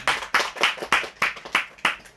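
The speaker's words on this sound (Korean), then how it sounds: "우리 하나님께 영광의 박수 올립시다." A church congregation claps hands in rhythmic unison, seven or eight crisp, evenly spaced claps heard close and loud with no talking.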